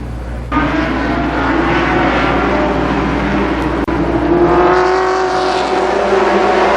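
Race cars roar down the front stretch at Columbus Motor Speedway in 1992, a loud, continuous engine drone that rises in pitch as the cars close in and race side by side, with no talk.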